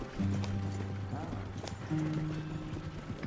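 Horse hooves clip-clopping in the video game Red Dead Redemption II, a steady trotting rhythm mixed with game ambience and low tonal sounds, with a voice speaking over it.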